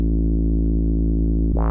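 A distorted synth bass line from the Poizone plugin in FL Studio drones as one loud sustained buzzy note, followed by a short brighter pluck at the end, with no voices.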